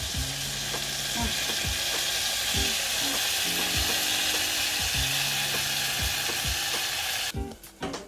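Butter and Frank's Red Hot sauce heat in a pan, giving a steady close sizzle with repeated clicking, scraping stirs throughout, before the sound cuts off abruptly near the end.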